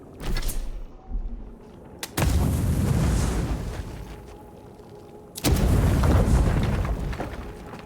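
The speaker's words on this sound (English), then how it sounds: "Grenade." Grenade explosions in a video game, two deep booming blasts a few seconds apart, each with a sharp onset and a long rumbling decay, loud and close, preceded by a few quicker thumps.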